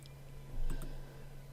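A single page down key on a computer keyboard is pressed, giving a brief, faint click with a quick double tick over a steady low hum. No voice is heard.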